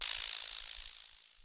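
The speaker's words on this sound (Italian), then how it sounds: "Lo shaker è molto lungo in realtà" A single long, bright shaker rattle with fine rapid grains that fades slowly over about a second and a half; a sampled shaker used in LMMS.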